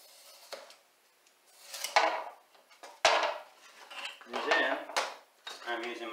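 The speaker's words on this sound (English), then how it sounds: "balsa wood is very soft and easy to cut with your utility knife" A utility knife slicing through soft balsa wood for a pickleball paddle handle, giving several separate crisp scraping cuts with short pauses between strokes, close up and with no talking.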